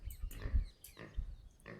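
A video game pig oinks and grunts in short repeated bursts, close and clear, with a few pauses between calls.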